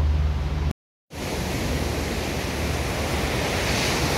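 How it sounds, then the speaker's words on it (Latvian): Broadband, steady roar of sea waves washing onto a beach at Nea Karvali in Greece, loud and close, cut by a brief silent gap near the start, with no voices. "Eko Letīcija sēž pie jūras."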